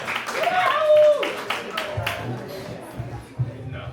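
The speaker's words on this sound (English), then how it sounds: "Can we start clapping right now?" A comedy club audience in a bar claps for the next comic, a scattered burst of applause under a host's amplified voice that thins out toward the end.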